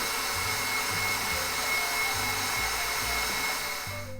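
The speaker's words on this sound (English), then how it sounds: "We're getting this divinity out of the mixer. Sorry for the noise." An electric stand mixer whips a batch of divinity candy with a steady, loud motor whir and a constant high whine, the beater churning in a low pulsing rhythm close by, with no talking.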